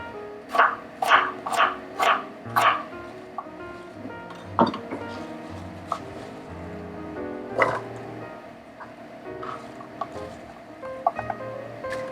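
An apple being diced with a knife in a home kitchen: five evenly spaced chops near the start, then scattered lighter knocks and taps over a soft room background.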